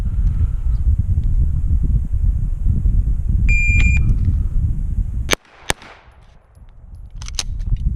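Two sharp pistol shots ring out close and loud during an IPSC shooting drill at 25 meters, preceded by a range shot-timer beep and steady outdoor background noise, with a faint echo trailing each report.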